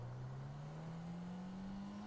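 Car accelerating away in GTA Online, a steady engine drone rising slowly in pitch as it drives off, loud and continuous with no talk.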